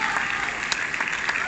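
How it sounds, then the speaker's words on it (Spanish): Audience applause at a conference, a steady, dense clapping that fills the room at even loudness for its brief length, with no voices over it. "Fuerte el aplauso para Mayela Cueva."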